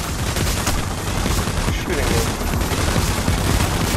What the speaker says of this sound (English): Oh, they're shooting, so we're careful.